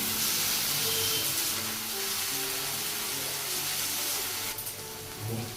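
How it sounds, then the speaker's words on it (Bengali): Chopped spring onions fry in a pan and are stirred for a tengra fish curry, making a loud, steady sizzling hiss that runs throughout with a slight swell near the end. "এটা বেশিক্ষণ ভাজবো না, পেঁয়াজকলি বেশি ভাজতে নেই।"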